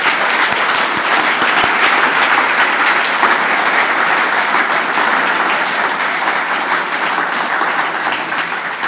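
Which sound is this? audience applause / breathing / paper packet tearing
audience applause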